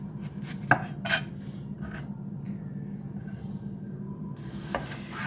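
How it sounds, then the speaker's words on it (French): A knife cutting a peeled red onion on a board: a few sparse, sharp taps stand out over a steady low kitchen hum, with no talking. "j'ai épluché un oignon rouge que je vais couper, je vais émincer"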